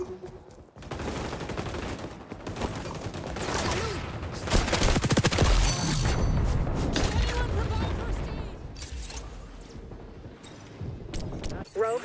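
Gunfire from the online shooter XDefiant, with dense bursts of automatic fire and explosions running through a noisy match while in-game announcer voices talk over the shooting.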